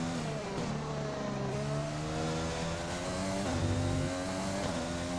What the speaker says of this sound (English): you can hear how sluggish the engine is when it's in lean mode